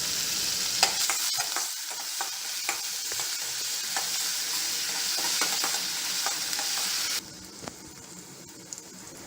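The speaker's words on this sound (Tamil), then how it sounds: "ஒரு வெங்காயம் பொடியாக நறுக்குனதையும் சேர்த்துக்கோங்க. அதை வந்து நல்லா வதக்கிக்கோங்க." Chopped onions sizzle and crackle in a hot pan with steady frying noise and occasional stirring scrapes, no voices present.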